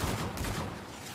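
A dense, continuous barrage of gunfire in a Call of Duty zombies game, loud and blended into a steady roar for about a second.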